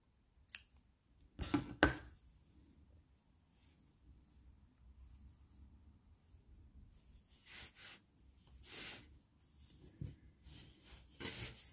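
Scissors snip off crochet yarn at a table, a few sharp close snips near the start followed by quieter rustling and handling, with no talking.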